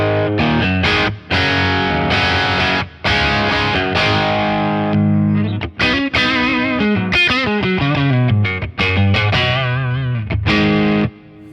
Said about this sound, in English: This is the Strat straight into gain 1.